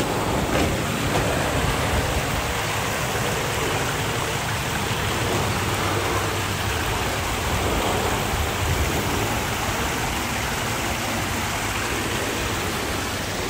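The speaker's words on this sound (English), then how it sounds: "I don't know what the human fascination is with, like, waterfalls, even small ones" Small waterfall in a Japanese friendship garden, a constant broadband rush of falling water that stays loud and unbroken throughout, with no voices.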